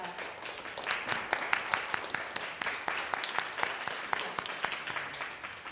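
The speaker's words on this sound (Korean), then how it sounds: "우리 함께 박수로 축하를 드리겠습니다" A congregation at a Japanese-language church worship service applauds in a celebration, an even stretch of many hands clapping at moderate distance with individual claps standing out, and no talk over it.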